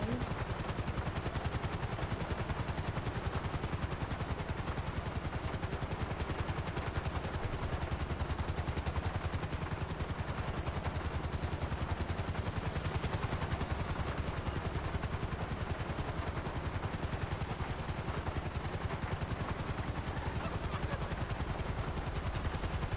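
A helicopter sets down on a road in a video game, its steady rotor thrum and engine roar running continuously and loud, with sharp crackling bursts mixed in throughout.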